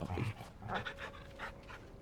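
A dog from Final Fantasy XVI pants while being petted, giving a run of close, breathy huffs with a faint whimpering edge that fade in and out over two seconds, with no talk over them.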